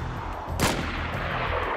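A single sharp gunshot in DayZ PvP against a clan, loud and close, cracking out once over low ambient game noise.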